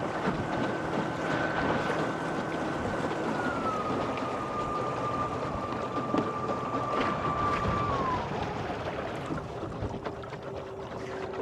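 A boat pushed by a rudder-style electric outboard motor heads into the wind, giving a steady whirring drone with a faint tonal whine that shifts pitch partway through, mixed with broadband wind and water rush and no talking.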